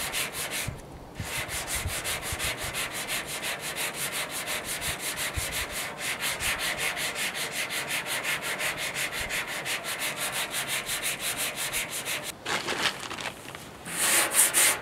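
Steady hand sanding with 150-grit paper on the front fender of a 1956 Ford pickup, a continuous close scratchy rubbing that runs almost unbroken with a brief pause near the start and a slight change in stroke near the end.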